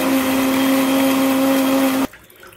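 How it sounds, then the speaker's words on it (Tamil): A mixer grinder whirs loudly and steadily with a strong motor hum for about two seconds, then cuts off abruptly into quiet. "சேர்த்து மிக்ஸி ஜாரில் லைட்டாக ஒரு அடி அடிச்சுட்டு"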